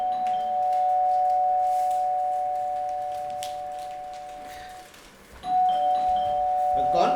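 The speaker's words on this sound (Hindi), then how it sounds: "बाहर खड़ा बड़ी देर से घंटी बजा रहा था" A doorbell rings in a long sustained electronic tone, cuts out, then sounds again after a short pause, clear and fairly loud over faint room noise.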